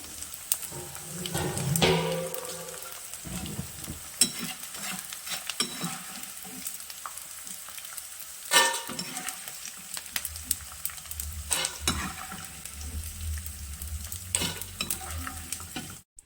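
Edible gum frying in ghee over a low flame, a steady soft sizzle with intermittent scraping stirs of a spoon against the pan, close and alone without talk.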